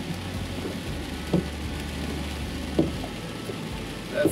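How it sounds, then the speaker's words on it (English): Heavy rain patters steadily in a soft, continuous hiss on a van in the Appalachian foothills of Kentucky, with a low engine hum beneath and a few faint knocks. "And it's pouring down rain."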